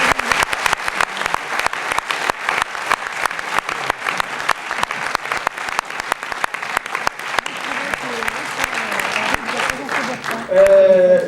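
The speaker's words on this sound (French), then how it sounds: "je voudrais également qu'on applaudisse très fort Henri Verneuil" An audience in a French cinema presentation applauds loudly, a dense stream of sharp claps lasting throughout, with a voice briefly audible near the end.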